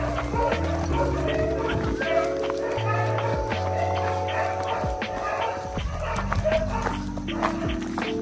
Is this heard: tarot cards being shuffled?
no